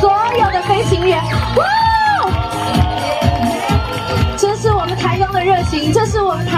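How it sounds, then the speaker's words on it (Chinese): Crowd at a hot-air balloon event cheering, whooping and screaming for the balloon pilots, a dense, loud mass of shouts and yells with a voice over the noise. "回应一点掌声吧，掌声加尖叫，回应给所有的飞行员"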